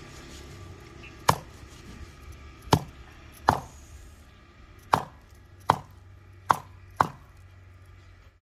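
A cleaver chops through a giant Tamboshi fish of about two and a quarter kilos, landing seven sharp, loud, separate whacks at uneven intervals against a quiet background.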